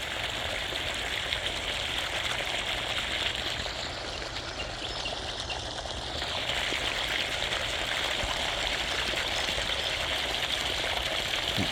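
Water gushes steadily from a swimming pool filter's waste line on the rinse setting, a continuous close, hissing, splashing flow of even loudness throughout.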